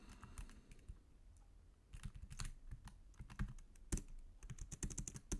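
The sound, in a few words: typing CSS code on a computer keyboard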